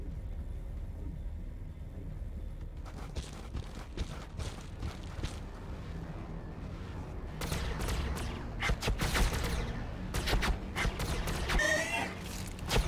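Bolter gunfire rattles in the Warhammer 40K Battlesector strategy game, rapid bursts of shots rising in intensity over a rumbling battle backdrop, loudest in the second half.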